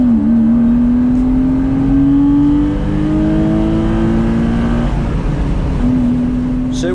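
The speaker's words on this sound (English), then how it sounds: "All this acceleration is me at flat chat and using the entire rev range available." Porsche Boxster Anniversary Edition at full throttle on the Nürburgring, climbing steadily through its rev range, with a gearshift and then another rising pull, loud and close with wind noise and no talk.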